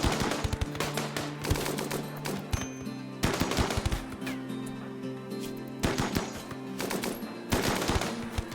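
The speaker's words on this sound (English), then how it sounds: "They open fire on the tribal cannibals." Rapid automatic gunfire erupts in a RimWorld battle as a squad attacks tribal cannibals, with loud clattering volleys arriving in repeated bursts separated by short gaps.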